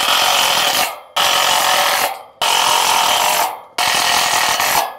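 Four long bursts of a power driver sinking screws into a wooden roof truss, each a loud, near whirring drive of about a second that cuts off sharply before the next.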